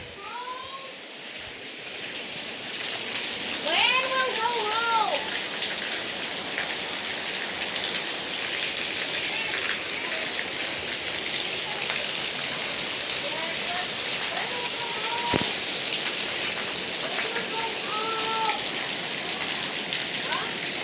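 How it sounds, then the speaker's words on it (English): Heavy rain pours steadily in a village, a dense continuous hiss that holds for the full twenty seconds, with birds chirping faintly in the background now and then. "it's raining a lot in my village."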